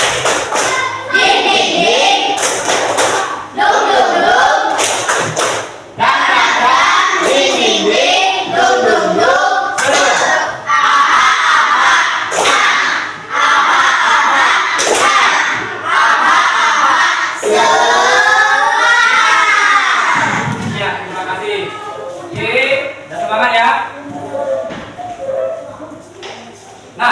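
A classroom of students does a rhythmic spirit clap, with bursts of clapping, thumping and chanted cheering from the group, loud and busy, under and among a teacher's voice.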